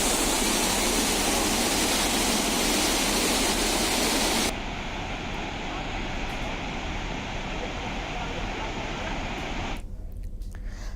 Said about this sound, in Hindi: डैम के गेट खोले जा रहे हैं, कई हजार क्यूसेक पानी छोड़े गए हैं